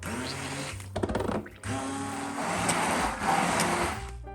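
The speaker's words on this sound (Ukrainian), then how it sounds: "А далі за допомогою занурювального блендера перетворюю все до однорідної консистенції" An immersion blender whirs steadily with dense, mid-pitched buzzing, blending a cheese dessert mixture smooth, briefly cutting out and restarting before running continuously up close.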